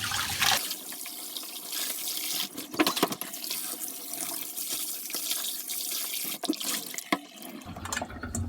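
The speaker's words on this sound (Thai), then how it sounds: "พอน้ำใสเราก็โอเคค่ะล้างจนแบบให้เลือดปลาออกหมดเลยนะคะ ตรงเหงือกก็ล้างแบบล้างดีๆเลยค่ะ" Running tap water splashes steadily as mackerel is rinsed in a sink to wash out the blood, including around the gills, with brief louder splashes and handling of the fish throughout.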